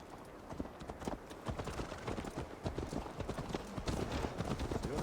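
A horse ridden at a steady pace in Assassin's Creed Valhalla: rhythmic, close clip-clopping hooves running throughout over a faint background bed.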